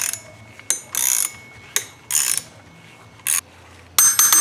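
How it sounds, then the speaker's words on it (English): Several short bursts of grinding, ratcheting mechanical noise come in irregular spurts with brief pauses, close by, as an installer presses a shaft into a pulley. "It's just the shaft pressing in to the pulley."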